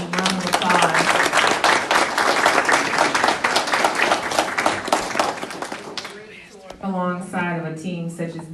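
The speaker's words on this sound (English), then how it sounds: "Let's give all of our county team a round of applause." A council meeting audience applauds the county team, with dense, loud, even clapping for about six seconds before it fades and a voice resumes speaking.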